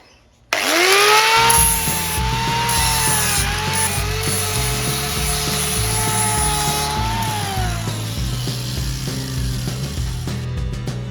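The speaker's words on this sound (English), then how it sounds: "grind that edge off there until you see a line come round this outer piece here" An angle grinder cutting the edge off a Triumph Bonneville Bobber exhaust, a loud close whine that starts abruptly and holds steady, with rough rasping metal contact underneath.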